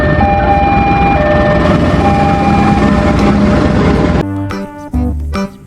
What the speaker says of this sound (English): This is the train.